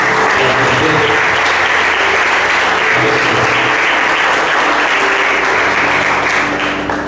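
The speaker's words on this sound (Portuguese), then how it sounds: "Pastor Leonardo, vamos dar salve de palmas para Jesus." Church congregation applauding together in praise, a dense, steady wash of clapping that fills the room and holds at full strength before easing slightly at the end.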